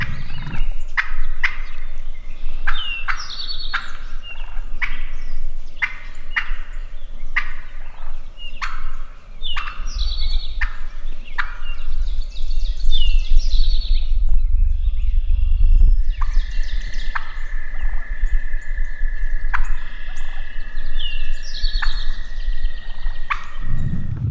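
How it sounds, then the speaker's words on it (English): Wild turkey hen clucks and soft purrs repeat in a steady series, close and clear, with a lower rolling gobble-like call joining partway through over a constant low background hum, during spring turkey hunting in Wisconsin. "It's clucking and purring coming in."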